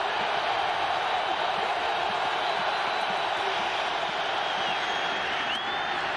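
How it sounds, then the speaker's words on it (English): The Buffalo crowd at a 1998 Bills–Jets football game in Buffalo roars steadily, a broad, distant wash of cheering stadium noise holding at an even level throughout. "And here comes the Buffalo crowd."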